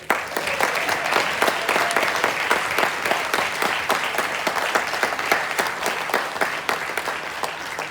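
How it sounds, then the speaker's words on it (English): An audience at a Hall of Fame induction ceremony applauds the inductees with steady, dense clapping that stays full and even for several seconds, with no talk over it. "let's give all of our inductees another round of applause"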